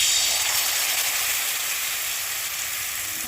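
Batter for dudh chitoi pitha hits a hot oiled pan with a loud, steady sizzle that holds evenly and fades only slightly, with no voices.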